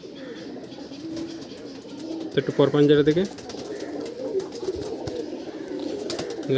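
Rampuri Golden pigeons coo softly in the background while someone talks over them, with a brief louder burst of calling partway through.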